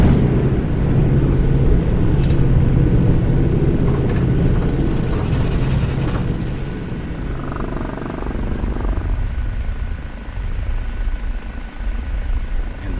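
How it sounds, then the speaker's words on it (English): Kiowa Warrior helicopter in a DCS flight simulator settling to a skid touchdown, its rotor and turbine a loud steady broadband roar that eases after a few seconds, with soft wind rushing in the background and no talk. "And the subtle wind in the background."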